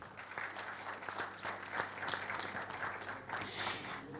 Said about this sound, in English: Let's give a huge round of applause to Kentaro Sakamoto-san.